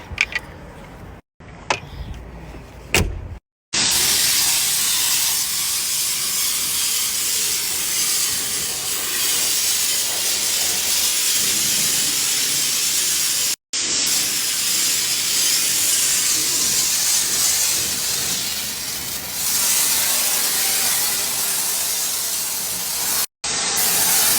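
A car getting a pressure-spray wash at a car wash, a loud, steady hiss of water jets running almost without pause after a few short bursts, cut by brief gaps where the spray stops.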